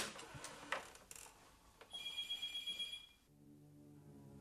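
A telephone bell rings in short bursts in a quiet indoor room, with the ring ending partway through and a low hum left after it.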